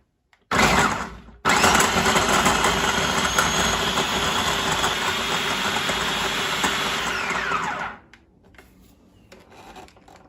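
A Cuisinart Elemental 11-cup food processor chops with a loud, broadband motor whir: a short burst, a brief pause, then one long sustained run of about six seconds that winds down as the blade slows, followed by faint clatter.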